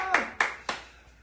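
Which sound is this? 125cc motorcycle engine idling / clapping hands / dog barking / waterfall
clapping hands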